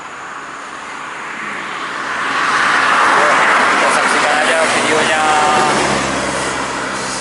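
Buses race past on an Indonesian road, a broad engine and tyre roar that swells to a peak midway and holds as the vehicles pass close by, with someone talking over it.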